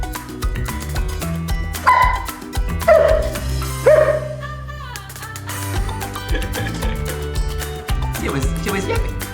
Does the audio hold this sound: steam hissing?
no